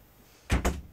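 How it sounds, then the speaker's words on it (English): A door swings shut nearby, landing as two quick, solid thuds in close succession after a quiet stretch, with no voices. "I gotta close the door."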